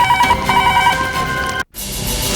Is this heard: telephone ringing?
yes